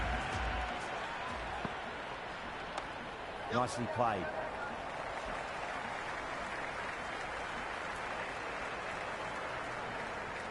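Virtual stadium crowd cheers and claps in Cricket 26 during a T20 World Cup Final match, a steady roar of applause running throughout with a commentator speaking briefly over it.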